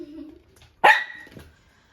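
A single sharp, loud dog bark rings out nearby inside a home, followed by a fainter short yip, with quiet background between.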